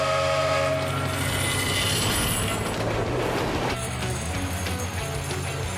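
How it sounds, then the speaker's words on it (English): A cartoon train approaching in a Paw Patrol rescue scene, a continuous loud rolling rail rumble with a whistle-like horn tone, building and then shifting as it nears. "Here comes the train."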